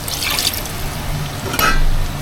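Water poured into a pan of semi-gravy chicken curry, a short splashing, dripping pour lasting about two seconds.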